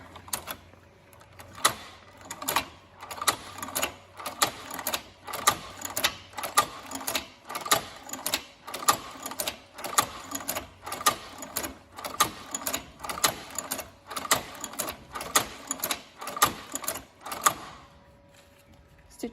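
A Cowboy Outlaw hand-crank leather sewing machine stitches with a regular rhythmic clunk, one stitch roughly every second, close and moderately loud, continuing for most of the time before stopping.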